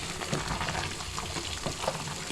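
Beef stew meat sizzles in a pot in a Kenyan kitchen. The frying hiss is continuous and moderately loud, with small pops and stirring noises, and nobody speaks.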